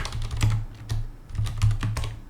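Keys clack on a computer keyboard while someone types Python code, a close, quick run of irregular taps and short bursts with no speech.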